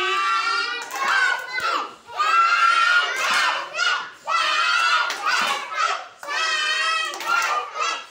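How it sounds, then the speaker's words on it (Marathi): A group of young children in a classroom bursts into loud shouting and cheering for a classmate, with close, repeated bursts of excited voices in rhythmic waves and some clapping mixed in. "चला टाळ्या वाजवा सगळ्यांनी आर्यनसाठी"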